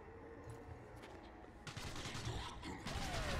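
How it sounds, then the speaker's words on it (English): A flurry of gunfire in the zombie shooter Zombie Army Trilogy: several cracking shots in quick succession under a busy game soundscape, heard fairly quietly. "The hell are you shooting at, dude?"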